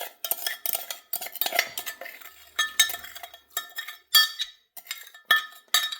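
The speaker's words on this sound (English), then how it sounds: "do you want to give that a bit of a stir?" A spoon clinks and scrapes around a pot as sugar brine for pickled asparagus is stirred, a steady rhythm of close metallic chinks and swishes with brief pauses, no talking.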